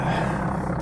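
Cessna aircraft engine in Amiga Flight Simulator II, a steady low droning rumble, loud and close, heard alone for under a second.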